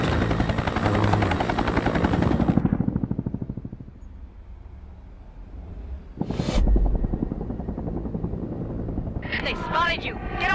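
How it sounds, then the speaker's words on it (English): A helicopter in the video game XIII, a loud rotor whir under spoken dialogue that drops away midway, then returns with a sharp burst and continues beneath more voices. "The helicopter."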